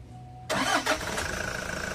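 A Toyota Hi-Ace engine cranks and catches, then settles into a steady close idle after a brief flare of revs, with no talk over it.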